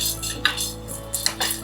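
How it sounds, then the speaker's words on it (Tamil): Cardamom seeds, long pepper and coriander seeds dry-roasting in a pan, with light scattered clinks and scrapes of a utensil against the metal, close and fairly quiet. "வால்மிளகு, தனியா, ஏலக்காய் இதெல்லாம் சேர்த்து வறுத்துட்ருக்கோம்."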